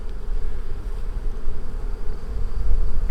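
Honeybees buzz densely around beekeepers working at open hives with smoke, a close, continuous droning hum with individual bees flitting past the microphone.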